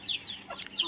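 A hen clucks softly near her small chicks, giving a couple of short, quiet calls at close range.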